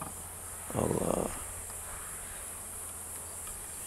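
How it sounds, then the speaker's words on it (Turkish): Honey bees swarm on an oak tree in rural Turkey, a steady insect drone with a louder buzzing swell as bees pass close, over a constant high hiss of outdoor ambience. "bugün bu meşeye yoğunlaşmış durumda arılar"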